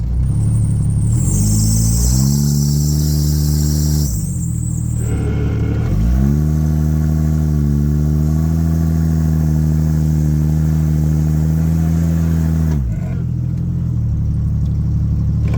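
A Jeep ZJ on long arms and mud tires revs hard as it tries to crawl up a slope, with the engine rising and holding a steady loud drone, dropping briefly between two long pushes, close and with no talk.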